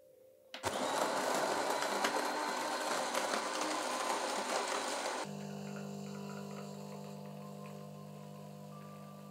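A DeLonghi Magnifica S coffee machine grinds beans in a loud, harsh burst of about five seconds while pulling a shot. A steadier, quieter pump hum with a low drone follows, and no one speaks.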